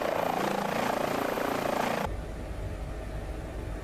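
A helicopter in flight, preparing to land, gives a loud, steady rotor and engine drone with a rhythmic chop that shifts to a deeper, more muffled rumble partway through.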